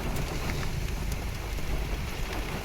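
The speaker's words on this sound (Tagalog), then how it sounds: "Napakalakas na ulan, no." Heavy rain pouring down hard in a dense, constant roar of drops on surfaces, loud and close, unbroken from start to finish with no voices.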